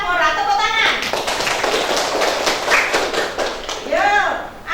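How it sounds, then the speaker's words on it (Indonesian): Applause from a classroom of children, dense clapping spread across the whole stretch, with kids' voices chattering and calling out over it. "Tepuk tangan."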